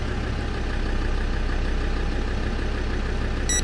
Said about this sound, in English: TD5 engine.